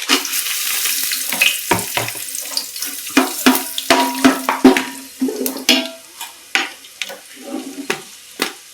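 Crushed cinnamon, cloves and cardamom crackle and sputter in hot oil for a country-chicken biryani, with irregular sharp pops and stirring scrapes close by, loud at first and then thinning into scattered bursts.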